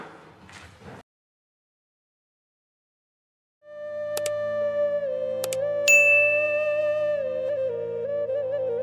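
A notification bell chime rings out after a short voice and a silent pause: a clear, sustained bell tone with sharp ding accents that sparkle and hold steady to the end.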